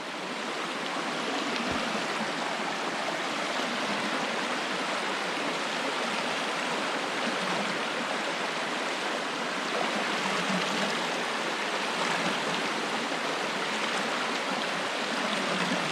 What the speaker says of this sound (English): here's the perfect viewing point of the little waterfall